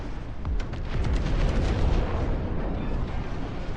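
Continuous rumbling artillery barrage in the real-time strategy game Dustfront, dense overlapping booms and blasts forming a steady loud roar with no speech.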